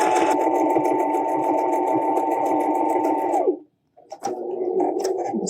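Loud, close sewing machine stitches a homemade face mask in a fast, steady whir, halts briefly, then runs again.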